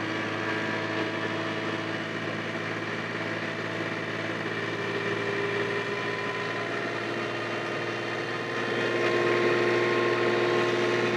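Tractor engine lugging hard under load while pulling a 60-inch IronCraft HD reverse tiller through rough garden soil, a steady loud drone with constant low harmonics, swelling slightly near the end.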